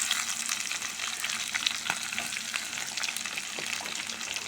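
Onion pieces fry in hot oil in a pan, a dense continuous sizzle with faint crackles, steady and close throughout, with no talking over it.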